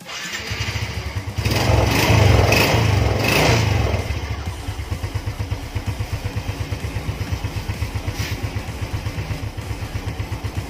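Suzuki Smash 115 motorcycle engine idling steadily up close, with a rapid even putter and a brief louder revving burst in the first few seconds before settling back to a regular idle.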